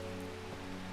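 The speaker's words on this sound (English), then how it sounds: "Does it ever stop raining in Undermere?" Rain in Undermere from the video game Strange Horticulture falls as a steady, soft hiss with a faint low hum beneath it, brief and unbroken.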